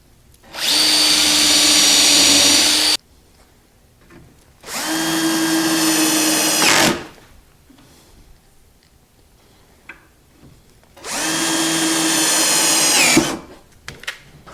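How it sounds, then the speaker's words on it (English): A power drill bores pilot holes in a cabinet in three loud, steady bursts of a few seconds each, separated by quiet pauses with faint clicks. "I can start drilling the holes to assemble this cabinet."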